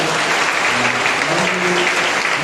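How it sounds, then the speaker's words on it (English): A church congregation at a Monday prayer meeting claps in sustained, dense applause that fills the room, loud and close throughout, with a faint murmur of voices beneath. "Can we give a clap to the Lord"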